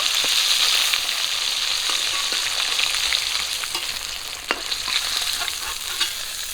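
Heads of a large 18 kg carp frying in hot oil with dried red chillies, giving a steady, dense sizzle and crackle that runs alone throughout, with occasional faint spatters and stirring clicks.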